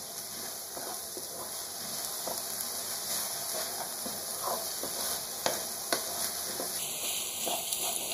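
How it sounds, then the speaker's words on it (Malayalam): Basmati rice roasts and sizzles in a pan while being stirred, a steady crackling hiss with occasional sharper clicks and scrapes, close up and without talk. "ഇതൊന്ന് വറുത്തെടുക്കണം."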